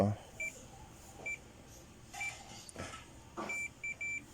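Short electronic beeps from a continuity tester's buzzer checking a capacitor sound intermittently, a few single chirps then a quick run of beeps near the end, with faint talking and handling noise underneath.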